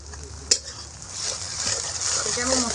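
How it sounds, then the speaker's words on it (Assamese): Masala spices with chili paste fry in a pan while being stirred, giving a steady close sizzle and hiss with one sharp utensil clink near the start. "মছলাখিনি ভালকৈ ভাজি ল'ম"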